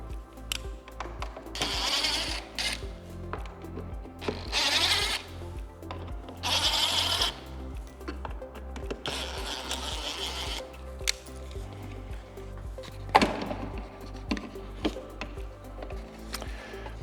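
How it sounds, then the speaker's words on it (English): Four T25 screws being removed from the front speakers of a Harley CVO motorcycle, heard as several bursts of whirring and ratcheting from a driver, interspersed with scraping and rubbing of parts. "We're going to do that by taking the 4 T25 screws out."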